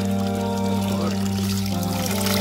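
Water from a mountain spring in Dhirkot, Bagh, Azad Kashmir pours steadily with a close, continuous splashing rush that holds an even level throughout.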